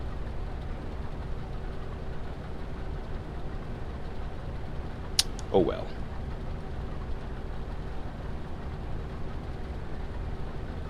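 Tractor engine running in Farming Simulator 25, a low, steady rumble under a brief spoken remark and a short sharp noise midway.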